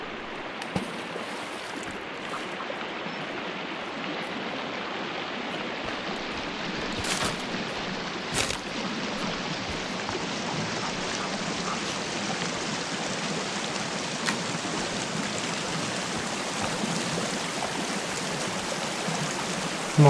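A waterfall in the survival video game Sons of the Forest, a steady broadband rush of falling water, constant and moderately loud, with no voices.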